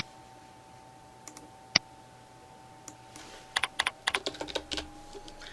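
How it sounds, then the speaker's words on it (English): Typing on a computer keyboard to enter a search word: a few isolated clicks at first, then a quick run of close, crisp keystrokes in a quiet room, with no voices. "then type in the search word"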